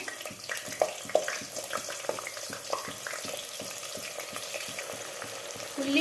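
Three chopped onions fry in hot oil for chicken dum biryani, giving a dense continuous sizzle with rhythmic stirring taps and scrapes of a spoon against the pot, close by and without speech.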